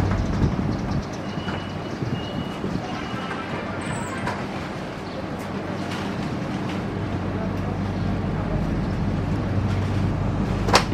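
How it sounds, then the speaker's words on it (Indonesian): The Argo Bromo Anggrek express train departs Cirebon Kejaksaan station with a steady, loud rumble and low hum that runs throughout, with faint indistinct voices in the background. "Argo Anggrek persiapan berangkat."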